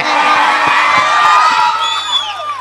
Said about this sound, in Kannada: ಜೋರಾಗಿ ಒಂದ್ಸಾರಿ ಚಪ್ಪಾಳೆ